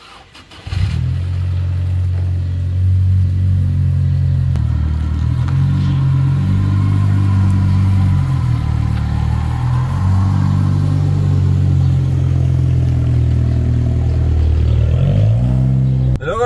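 A 2007 Audi A4 B7 Quattro engine cranks and catches, then settles into a steady, loud, close idle with slight rises in revs before a brief blip near the end.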